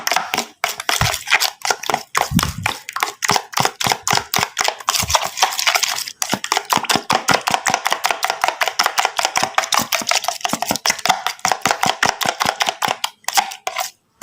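Fish bait for pomfret mixed with coconut milk is stirred vigorously, producing a fast, continuous stream of close wet slaps and knocks against the container, steady and loud throughout, with no talking.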